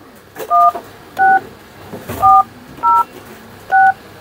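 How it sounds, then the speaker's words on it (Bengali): Telephone keypad tones sound as a number is dialed, six short, clear two-tone beeps spaced at an even rhythm over a quiet background. "ডায়াল করছি।"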